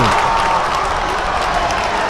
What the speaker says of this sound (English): This crowd is loving it.